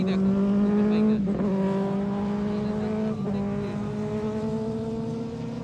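A superbike roars past on the road during a Sunday ride, a loud, continuous engine drone whose pitch rises and falls as it passes and shifts gear.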